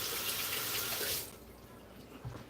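Tap water runs steadily into a sink to wet toothpicks, a loud continuous hiss that cuts down to a quieter flow partway through, then a few small splashes and clatters.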